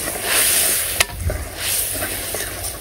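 Food sizzles steadily in a pan as it is stirred with a little sugar and cumin, with a few sharp utensil scrapes against the pan, close and fairly loud.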